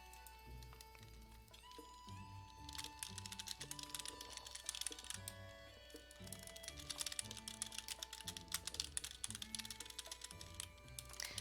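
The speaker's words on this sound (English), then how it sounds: "I'm just typing up the Tumblr post" Rapid computer keyboard typing clicks away in continuous bursts for several seconds, faint but close, with background music from a game playing underneath.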